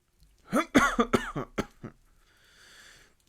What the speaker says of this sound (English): I nearly have a coughing fit